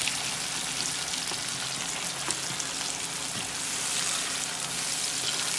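Jerk chicken seasoning frying in a pan fills the kitchen with a constant, dense crackling sizzle, fairly close and steady for the whole stretch.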